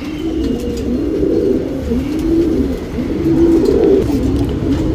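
A male Anekal Regdar tournament pigeon coos in a steady, repeated rolling rhythm, close and fairly loud, with no talking over it.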